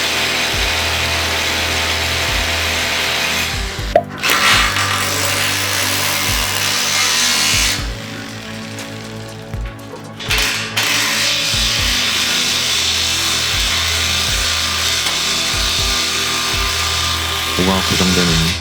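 Continuous loud grinding whine from a power drill boring holes to fix an H-beam with 12mm anchors during building reinforcement work, with two brief pauses and steady drilling throughout.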